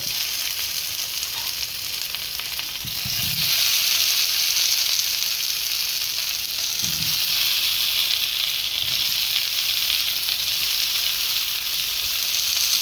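Potatoes sizzle and fry in a hot pan over medium-high heat, a steady broadband hiss that swells slightly as they go in and holds loudly throughout, with a few soft low knocks of pan handling.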